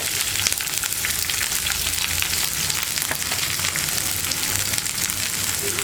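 Raisins frying in hot ghee in a pan, a steady dense crackling sizzle that holds at even loudness throughout, with no talking.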